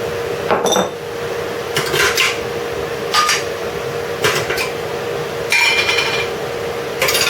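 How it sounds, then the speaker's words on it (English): Metal tongs clink against glass jam jars and a pot in a kitchen, several bright knocking clinks spaced over steady background hum; blackberry jam preparation. "I'll just pop the tongs in as well"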